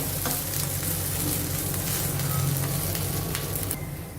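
An upma pesarattu, a green gram dosa filled with upma, sizzles steadily on a hot pan, a continuous close frying crackle with no talk over it.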